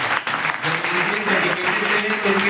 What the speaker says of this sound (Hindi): टीचर्स के लिए तो एक बार फिर ताली बजा दीजिए